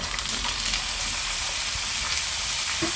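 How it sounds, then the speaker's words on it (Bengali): Spices frying in a pan for apple chutney give off a steady, close sizzle with a broad, constant hiss that holds even in level for the whole stretch, with no talking over it. "দেখো মশলাটা পুরো ভাজা হয়ে গেছে তারপর আমি আপেলগুলো দিয়ে দেব"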